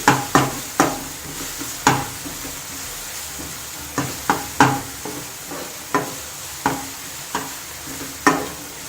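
Paneer masala being stirred in a pan, a spatula knocking and scraping in a regular series of a dozen or so sharp strokes over a low sizzle, near and fairly loud, with no speech.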